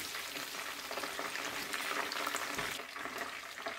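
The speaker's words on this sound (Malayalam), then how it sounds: "അതിലെത്തിട്ട് ശരിക്കും നമ്മൾ ഫ്രൈ ചെയ്തെടുക്കുകയാണ്" Chicken pieces frying in hot oil for a Thalapakatti-style black pepper chicken, giving a steady, dense sizzle and crackle throughout, close and continuous, with no voices.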